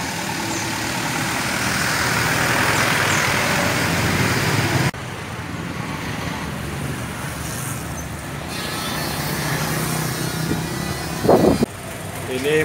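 A 2017 Toyota Kijang Innova with a 2.0-litre petrol engine runs at a steady idle nearby, its low hum shifting once partway through, with faint voices in the background.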